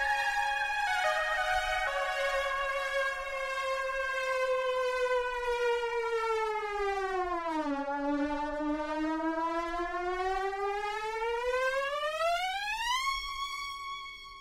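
A vaporwave synth chord slides slowly down in pitch and then climbs back up, a pitch-bend effect in a pre-chorus; the steady sustained tone plays alone at moderate level with no talk.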